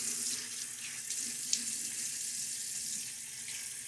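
Water splashing and running during a wet shave, rinsing the face between razor passes with a lather of Midnight Stag soap; a steady close splash with a single brief clack, no talk.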